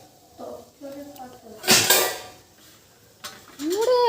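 A large metal cooking pot (dekchi) clanks and scrapes loudly in a home kitchen, with a burst of metallic clatter in the middle and voices talking nearby.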